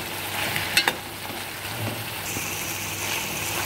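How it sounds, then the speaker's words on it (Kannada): Twenty to twenty-five curry leaves fry in a pan with tomatoes for a Saravana Bhavan style chutney, giving a steady close sizzle with a couple of sharp crackles early on. "ಇವಾಗ ಒಂದು 20-25 ಕರಿಬೇವಿನ ಎಲೆಗಳನ್ನು ಸಹ ಇದ್ರ ಜೊತೆ ಹಾಕಿಬಿಟ್ಟು ಚೆನ್ನಾಗಿ ಫ್ರೈ ಮಾಡ್ಕೊತಾ ಇದ್ದೀನಿ."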